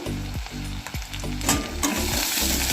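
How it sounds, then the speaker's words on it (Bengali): Ginger garlic paste with cumin and coriander powder sizzling loudly in a pan for an egg chicken tarka. Several quick spatula strokes scrape through the close, dense frying hiss. "মশলাটাকে এবার আমি ভালো করে নাড়াচাড়া করে নেব।"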